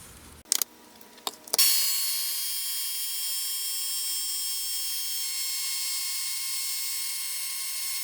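A heat tool switched on to melt clear embossing powder on cardstock, a few clicks and then a steady close whirring blow that holds to the end.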